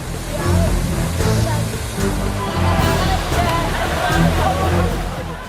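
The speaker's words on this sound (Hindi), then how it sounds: "पानी की धारा अपने साथ सब कुछ बहा ले जाना चाहती है।" Heavy, steady roar of floodwater surging through a broken dam at Keoti, Darbhanga, in Bihar, a loud broadband rush with slight swells in intensity, continuous and close, with a faint voice beneath.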